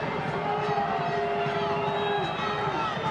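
Stadium crowd at a USL Championship soccer match between San Antonio FC and Phoenix Rising FC, a steady loud roar of many voices, sustained and dense throughout, swelling with reaction.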